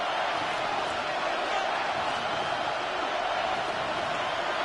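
A stadium crowd at an LA Rams versus Seattle Seahawks Thursday night football game roars as a steady, dense wall of noise, constant and unbroken, with a commentator's voice faintly over it.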